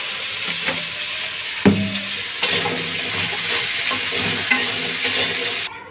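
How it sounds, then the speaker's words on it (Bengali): Potatoes fry in hot oil with a constant sizzle, broken by a few sharp scraping clinks from stirring. No one speaks. "আলুগুলো ভালোভাবে ভেজে নেব"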